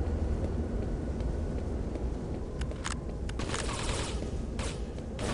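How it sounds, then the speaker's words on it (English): Rapid bursts of gunfire from a Quake III Arena 1v1 match against the Sarge character, with scattered sharp shots over a dense, loud, steady rumble of game noise and no talking. "Where's that gunfire?"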